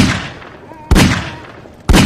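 Heavy gunfire in Garry's Mod Zombie Survival: three loud, evenly spaced booming shots about a second apart, each trailing off into a long rumbling decay.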